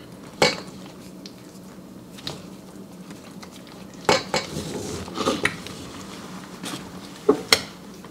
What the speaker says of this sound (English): This is all being mixed up with the vanilla pudding that we had.